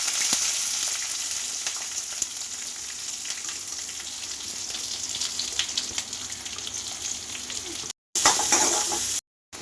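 Onion frying with cinnamon, bay leaf and cloves in a pan for a South Indian kurma, a steady close sizzle with stirring scrapes throughout and two short dropouts near the end, no talk.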